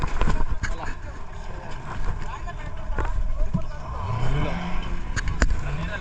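Ferry boat ride at Dandi Beach on the Konkan coast: a loud, steady rumble of engine and water with gusty wind buffeting the microphone, while people talk over it nearby.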